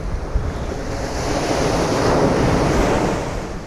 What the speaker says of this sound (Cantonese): 就有得聽呢啲海浪聲